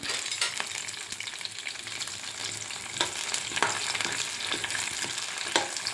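Chopped green chillies frying in a pan for beetroot chutney, a dense continuous sizzle with occasional crackles and spoon stirring, close and loud, with no talking.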